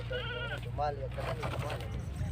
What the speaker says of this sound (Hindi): ये देख सकते हैं, बहुत ही प्यारा बकरा है माशाल्लाह।